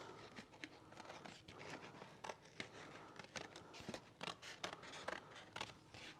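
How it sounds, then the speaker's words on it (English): Scissors snip through paper in a series of close, crisp cuts, irregularly spaced, with soft rustling between them and no talking. "So I'm going to take my scissors then and cut this out just like this."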